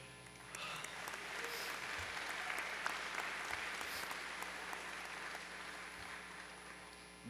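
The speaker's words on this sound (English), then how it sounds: "everyone please give a round of applause to all the enlistees and everyone here today." A crowd at an enlistee recognition gala applauds the enlistees with steady, even clapping that holds at a constant level for about seven seconds and sounds somewhat distant.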